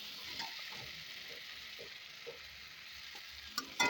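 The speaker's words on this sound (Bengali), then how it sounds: "ভালোভাবে নেড়ে চেড়ে মিশিয়ে ঝিঙে পোস্তটা নামিয়ে নেব।" Ridge gourd and poppy seed curry frying dry in a pan as sugar is stirred in, a soft, even sizzle with faint scraping strokes and a couple of clatters near the end.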